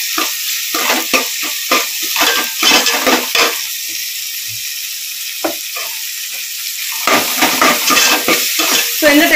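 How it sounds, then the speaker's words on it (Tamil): Crushed garlic frying in oil in a pan while a coconut milk fish kulambu is cooked, with close stirring scrapes and crackling sizzle that come in bursts, a quieter stretch in the middle, and no talking. "பூண்டு பல்லு நச்சு வச்சத அப்படியே நான் இதுல சேர்த்துக்கிறேன்"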